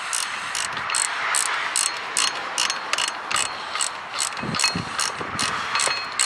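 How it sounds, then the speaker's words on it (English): A large socket ratchet clicks rapidly and steadily while tightening the bottom bolt of a car alternator, a close, even run of sharp pawl ticks with occasional duller knocks of the tool underneath. "I have to get the bigger ratchet just so I can actually clear everything"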